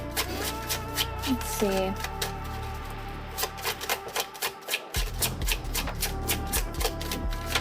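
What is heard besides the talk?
shuffling tarot cards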